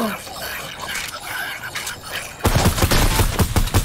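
Video game gunfire during a sniper fight, starting with scattered shots and scrapes and then a loud, rapid run of punchy gunshots, with a player talking over the action.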